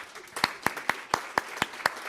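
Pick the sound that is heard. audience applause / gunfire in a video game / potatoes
audience applause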